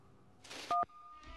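A phone in Super Paper Mario gives a brief electronic tone burst, two short pure beeps layered over a noisy blip, quiet and alone before a faint trailing chirp.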